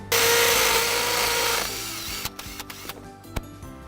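A power drill drives screws into a wall with a loud, close whir lasting about a second and a half, followed by scattered clicks and clunks of handling.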